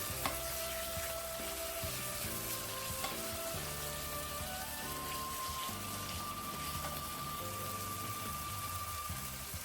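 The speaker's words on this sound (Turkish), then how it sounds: "Biber salçamızı da güzelce ezip yedirelim." Pepper paste is mashed and stirred into a sizzling sauce for meatball pilaf, with a continuous close hiss and scraping stir under steady background music.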